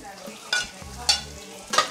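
Ginger sautéing in a pan for linarang, a Cebuano sour salmon-head stew, with three sharp stirring scrapes and sizzle bursts over a low steady hum.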